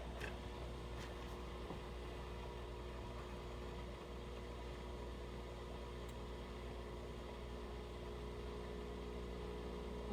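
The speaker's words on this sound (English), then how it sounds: "That's the Miele steam oven." A Miele steam oven running in a kitchen, giving a steady low mechanical hum with a faint whirring drone, quiet and continuous with no talk over it.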